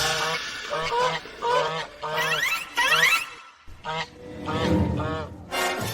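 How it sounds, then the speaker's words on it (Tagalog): Landes geese at a farm in the provinces honk loudly and repeatedly in short bursts, a flock calling near and overlapping one another. "Ito ay gansang landes."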